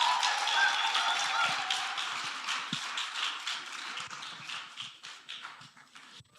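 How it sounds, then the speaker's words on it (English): Audience clapping at a career day event, a dense, steady patter of many hands that starts loud and thins gradually toward the end, with no voices over it. "Let's clap and be grateful."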